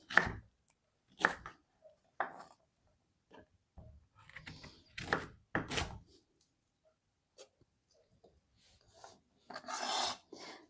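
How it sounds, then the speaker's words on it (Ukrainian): An unpeeled pear is sliced into triangular wedges with a kitchen knife for a quick tabbouleh salad: a few separate, crisp cutting strokes at irregular intervals, close by, with quiet gaps between them. "Ось таким трикутниками нарізаємо грушку"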